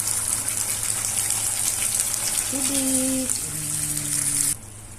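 Water pours steadily into a pan of tomato sauce with a rushing gush, ending abruptly near the close; a brief tonal whine sounds midway.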